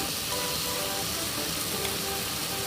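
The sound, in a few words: curry leaves sizzling in hot oil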